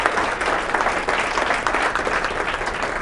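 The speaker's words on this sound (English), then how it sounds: "Let's give them a round of applause." Audience applause at a university presentation, a steady, full round of clapping from a sizable crowd held throughout at even volume.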